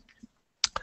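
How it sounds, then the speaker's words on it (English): Computer keys clack briefly and faintly, with a soft tap and then two sharp clicks close together near the end of an otherwise quiet moment. "I can hear Ramon frantically typing away"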